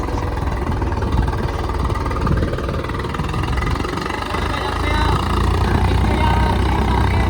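A Swaraj 855 4x4 tractor engine runs steadily at about 1000 rpm, a continuous low mechanical drone with vibration that swells slightly louder toward the end.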